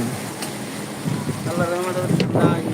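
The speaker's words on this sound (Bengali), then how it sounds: "কিন্তু বাতাস দমকা হাওয়া" Gusty wind after a rain shower, a steady blustery rush with buffeting against the microphone that strengthens in the second half, with muffled voices and faint tones underneath.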